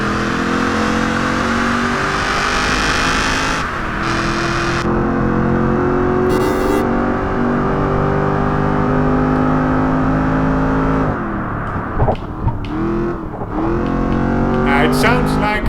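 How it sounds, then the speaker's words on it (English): An Aston Martin V8 engine in Project Gotham Racing 4 revs and drones steadily with rising and falling pitch, loud and close, shifting gears near the end, with someone talking over it. "It sounds like a cool V8 Rombbb."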